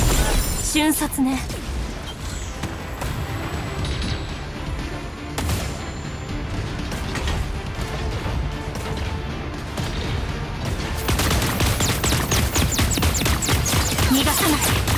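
Rapid bursts of gunfire crackle repeatedly in the video game Super Mecha Champions through a busy, dense mix with voices speaking, intensifying into sustained shooting near the end.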